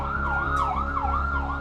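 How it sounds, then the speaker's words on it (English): A Hatzalah private ambulance siren wails in loud, continuous up-and-down sweeps over road rumble, close by and steady, with no talking. "That was the private organization, the private ambulance."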